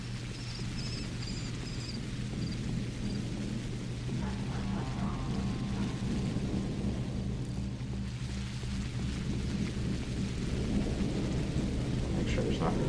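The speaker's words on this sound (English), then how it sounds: "but there is still rain." Rain and thunder in the video game Pathologic make a steady rain hiss under a low, rumbling thunder roll that persists throughout, at moderate volume with no clear speech.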